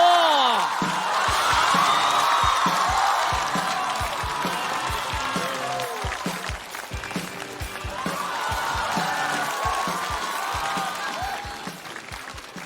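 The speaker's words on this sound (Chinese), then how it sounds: "掌声有请金博" Stand-up comedy show audience bursting into loud applause and cheers with whoops as a comedian is welcomed to the stage, steady dense clapping sustained throughout, swelling slightly near the end.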